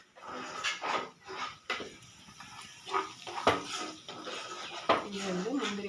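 Cashews and raisins clatter in a metal pan as they are roasted for pongal, with repeated clinks and scrapes of a spoon against the pan, and voices heard in the background.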